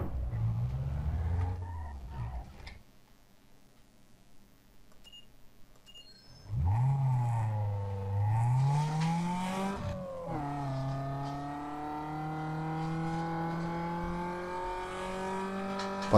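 Simulated car engine from the racing game Need For Speed Underground 2, revving up and down in loud, steady tones that rise in pitch as it accelerates, after a short quieter stretch, with no talking.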